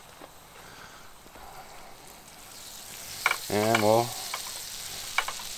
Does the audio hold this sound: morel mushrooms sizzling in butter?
yes